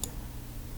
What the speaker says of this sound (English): Click on the text